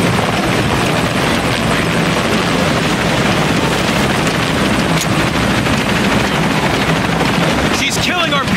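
Helicopter in the video game Shadow of the Tomb Raider, a loud, steady rotor roar that fills the whole clip amid other game sounds, with a burst of gunfire-like crackle near the end.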